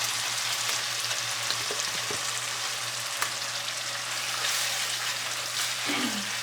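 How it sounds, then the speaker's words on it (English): Jollof rice base frying in a pot, a steady loud sizzle with occasional scrapes and knocks of stirring, continuous and close, no voice. "So we're going to fry this up."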